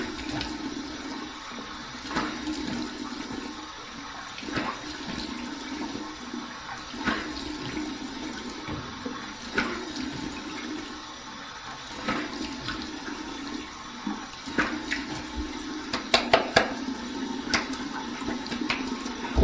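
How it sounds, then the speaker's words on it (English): Running cold water pours and splashes steadily for a long stretch as a rinse while shaving with an adjustable razor, with small bursts of heavier splashing and no talking. "here's my cold water rinse"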